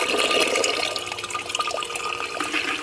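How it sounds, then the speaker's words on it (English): Water is poured in a continuous splashing, gurgling stream that stays steady and close for about three seconds, outdoors at a graveyard. "I'm gonna add a little water to this"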